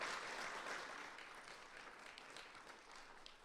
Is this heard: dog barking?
no